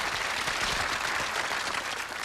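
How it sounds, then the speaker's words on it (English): Game show studio audience applauding in a 1990 television studio, a dense, even roar of clapping that holds steady from start to finish. "that deserves a little bit of applause"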